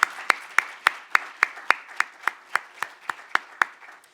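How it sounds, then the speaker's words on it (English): Steady, evenly spaced handclaps, about three or four per second, from a small gathering at a conference opening session, sounding like a few hands clapping in unison rather than a full ovation, with no talk over them. "Let's give all of them a round of applause too."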